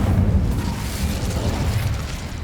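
Incendio fire spell cast in the Hogwarts Legacy video game, a loud low rumbling burst of flame that roars steadily for a couple of seconds without voices.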